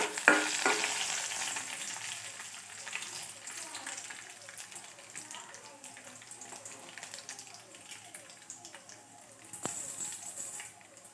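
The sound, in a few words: tempering spices frying in oil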